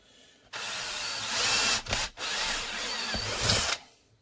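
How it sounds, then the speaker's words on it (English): A power drill whirs through material in two bursts separated by a short pause, loud and close, with no talking. "go ahead and drill your retention holes"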